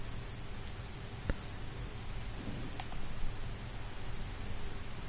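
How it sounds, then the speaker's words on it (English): Steady rain falls in the dark in Skyrim on PS4 Pro, a continuous broadband hiss of drops with a faint low rumble and a few brief taps, no voices. "It's raining in the pitch dark."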